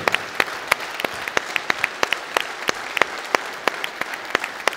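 An audience at a New Year's greetings ceremony applauds with a steady burst of clapping, dense and fairly close, with sharper individual claps standing out.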